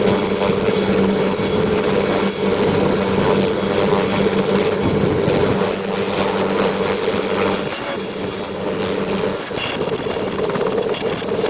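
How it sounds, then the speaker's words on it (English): A helicopter on an inspection flight over the Mannar Basin and nearby islands off Sri Lanka, giving a steady, loud rotor and engine drone that holds constant throughout with no talk. "Vice Admiral A.B. Singh then boarded a helicopter and engaged in an inspection tour of the Mannar Basin"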